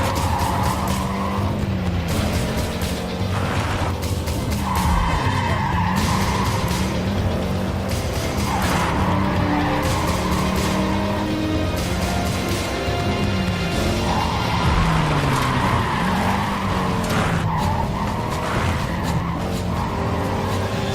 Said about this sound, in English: Stop fishtailing, baby.